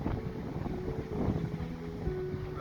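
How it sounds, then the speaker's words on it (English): Steady wind blowing outdoors on a sunny day, a broad continuous rumble buffeting the microphone throughout with no talk. "it's quite windy"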